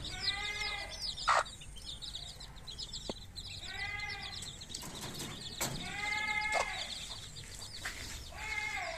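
Repeated bleating calls from goats come in several bursts, mixed with chicken-like clucks and busy outdoor yard noise.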